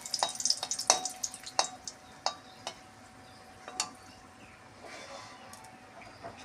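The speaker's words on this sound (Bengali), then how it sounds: "শুকনো লঙ্কাটা ভাজা হয়ে গেছে।" Dry red chillies frying in hot oil give off a quick run of sharp crackles and pops over a soft, steady sizzle. The pops thin out over a few seconds, close and fairly quiet.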